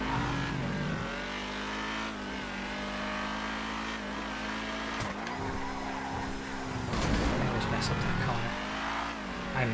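Race car engine in GTA 5 on the LSGP North Loop track, a steady loud revving drone with gear shifts and tyre squeal, a voice talking over it throughout.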